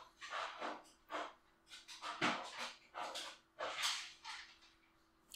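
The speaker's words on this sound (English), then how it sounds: "my pug has been extra needy today and decided to leave his morning feed until I decided to record this video." A pug pants in quick, breathy bursts close by, repeated in uneven clusters with faint whimpering mixed in and no one speaking.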